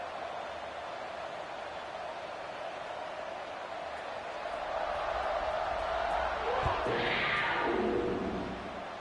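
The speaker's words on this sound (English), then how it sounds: "this crowd is buzzing after that last score" Stadium crowd in the NCAA 26 college football video game after a score, a steady broadband roar that swells louder in the second half, with a dull thud near the end.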